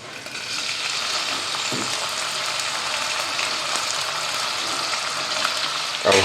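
Potatoes with cumin, green chilli and curry leaves frying in a pan, an even rain-like sizzle held for several seconds, close and steady, ending in a louder clatter.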